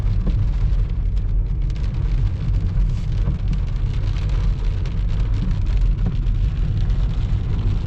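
Constant rain pours down with a dense, even hiss, over a low rumbling background like a moving vehicle, on a forest route near Masinagudi in the Bandipur tiger reserve.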